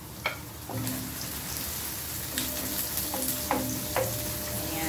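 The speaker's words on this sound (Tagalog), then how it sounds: "igisa natin yung sibuyas" Onions sautéing in a pan with garlic for a mung bean stew, a soft continuous sizzle broken by a few sharper crackles and stirring clicks, fairly quiet and close, with no talking.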